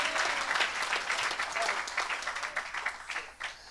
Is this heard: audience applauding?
yes